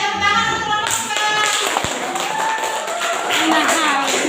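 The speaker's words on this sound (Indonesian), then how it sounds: "tepuk tangan untuk kelompok" Students in a classroom give a group a short burst of clapping, with scattered hand taps under a voice speaking.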